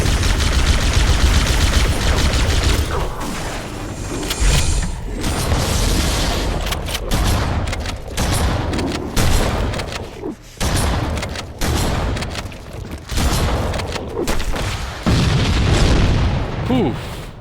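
Rocket explosions in Halo CE boom loud and close, landing in heavy repeated blasts among rapid gunfire that keeps up a dense, continuous barrage.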